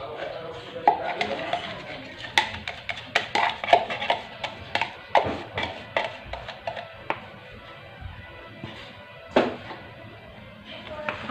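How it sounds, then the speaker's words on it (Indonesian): Donut dough with added yeast is stirred in a bowl, producing a run of irregular knocks and taps from the utensil against the bowl, close and moderately loud, with some quiet talk. "Kita aduk."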